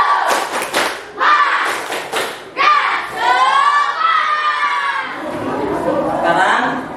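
Schoolchildren perform a rhythmic clapping chant in class, loud bursts of claps and shouted syllables in a patterned sequence, followed by sustained chanting voices together.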